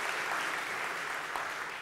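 Brief burst of audience applause, a dense, even wash of many hands clapping at once, fairly loud and close.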